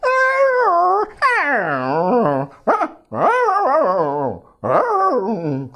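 A mimicry artist voices dogs talking to each other: a close, loud run of whining, howling and yelping dog-like calls in several rising and falling bursts, with short breaks between phrases.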